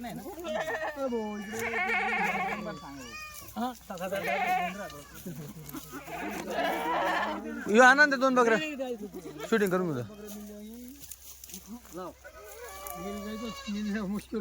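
Kathiawadi goats just unloaded from a vehicle bleat repeatedly at close range, their calls rising and falling through steady conversation among several people.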